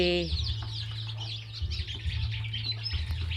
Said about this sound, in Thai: เลี้ยงไก่ไข่ค่ะ